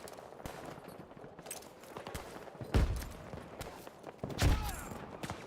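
Heavy gunfire from a Battlefield video game battle, with scattered shots and two louder bursts standing out over a busy, noisy background.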